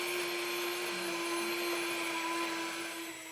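Home grain mill grinding whole wheat kamut into flour, a steady loud motor whine with a high droning hum that holds constant throughout, close by with no voices.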